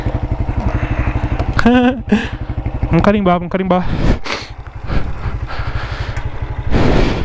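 A 160 cc motorcycle with an aftermarket exhaust kit idles loudly with a throbbing, uneven beat close by, while someone talks over it throughout.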